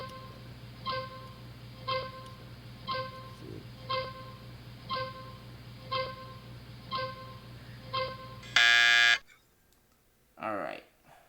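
A Sale of the Century speed-round timer ticks down in steady beats about once a second, each tick a short pulsed tone, ending in a loud sustained buzzer blast, then a brief sweeping electronic sound.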